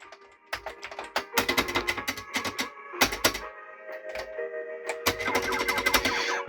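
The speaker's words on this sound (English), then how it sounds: "Keyboard is working." Keys clatter on a Yamaha CX5M MSX computer keyboard under restoration, irregular bursts of sharp clicky keystrokes with brief pauses, close and fairly loud, with no talking.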